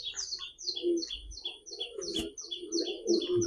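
A Pandan line racing pigeon calls close by among repeated high chirping birdsong, with soft low cooing bursts rising and falling under the steady twittering.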